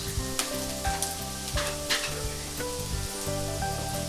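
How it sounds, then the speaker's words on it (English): Browned chicken sizzles in a pan as ginger garlic paste goes in, a loud continuous fry with sharp crackles and periodic stirring scrapes over a faint musical hum, no one speaking. "I'm just going to add a bit of ginger garlic paste."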